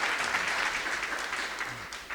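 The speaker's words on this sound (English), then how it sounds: "And I'd like a round of applause for you, please." An audience at an insurance industry awards event gives a round of applause, dense steady clapping throughout the short stretch, fairly close and even.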